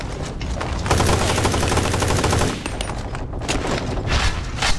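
Rapid bursts of automatic rifle gunfire from a game, a sustained volley in the middle with scattered shots before and after, loud and close.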